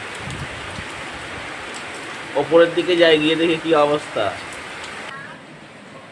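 Sudden rain pours down steadily on a windy day under a heavy sky, a continuous hiss that runs through the whole stretch while someone talks over the middle part.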